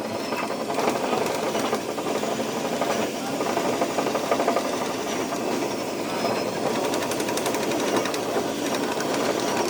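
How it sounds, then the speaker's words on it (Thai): A power drill bores all the way through bamboo being prepared for soaking in anti-borer treatment, giving a continuous rattling, grinding buzz that runs steadily throughout at close range. "เวลาเจาะก็ต้องเจาะให้ทะลุนะครับ"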